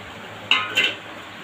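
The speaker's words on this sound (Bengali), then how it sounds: "এই সময় আমি দিয়ে দেব ভেজে রাখা মাছ আর বেগুন একসাথেই দিয়ে দেবো দুটো" Fried fish and eggplant added to a simmering fish curry in a pan, heard as two brief clinks and scrapes of a utensil against the pan over a steady low bubbling background.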